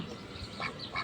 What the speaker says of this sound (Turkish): Evet çok güzel ördekler